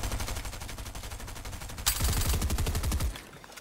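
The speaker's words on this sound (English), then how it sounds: "This is a 2-shot shotgun." Video game two-shot shotgun firing with rapid overlapping blasts and rattling impacts, a dense burst of gunfire sounds that swells midway and then cuts off, loud and alone without talk.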